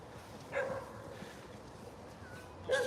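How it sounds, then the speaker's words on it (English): Dogs bark outdoors in San Francisco, two sharp yelping barks at moderate distance separated by a quiet stretch of ambient street noise. "There's a lot of dogs."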